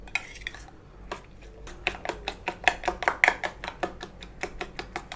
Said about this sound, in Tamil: இதை வந்து ஒரு 2 மினிட்ஸ் வந்து நல்லா பீட் பண்ணிகிட்டே இருந்தீங்கன்னா சாஃப்டாக வரும்